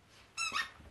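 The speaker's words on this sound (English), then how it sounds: "There's a head squeak." A squeaky plush dog toy's head being squeezed, giving two quick, bright squeaks close up in an otherwise quiet room.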